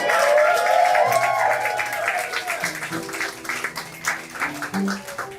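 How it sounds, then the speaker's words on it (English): Applause from a cabaret audience at a Juneteenth event in Provincetown, a dense steady wash of clapping that gradually thins and fades while some speech and music tones come in beneath it. "Please give them one more round of applause."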